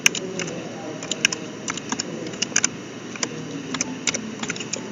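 An Aadhaar number is typed on a computer keyboard as a run of quick, uneven, close key clicks with small pauses, and no voice is heard.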